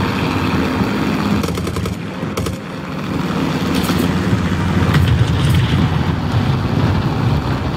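An aircraft machine gun fires in War Thunder, US tier I aviation, as short rattling bursts over a loud, constant engine and wind roar.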